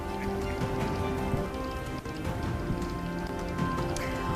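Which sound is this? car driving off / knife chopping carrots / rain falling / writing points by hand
rain falling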